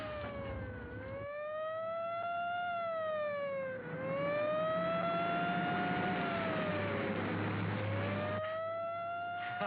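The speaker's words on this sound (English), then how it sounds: "An ambulance." A wailing ambulance siren rises and falls in long sweeping cycles, fairly distant, over faint traffic rumble, with no one speaking.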